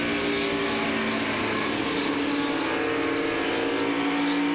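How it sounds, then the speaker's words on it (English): NASCAR Cup race cars circling Dover International Speedway during the 2007 Autism Speaks 400, a continuous loud roar of many engines with layered high-pitched whines sweeping past, dense and unbroken throughout. "All 43 cars that started this race are out on the racetrack right now"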